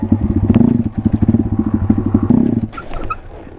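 A Honda Grom motorcycle engine revs in a rapid, lumpy burble during a wheelie attempt, loud and close, then drops off to a rougher idle with clacks near the end.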